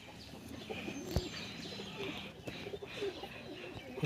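A small, short-bodied kalshira pigeon coos softly nearby, low throaty murmurs repeating under light chirping from other birds at a pigeon fair.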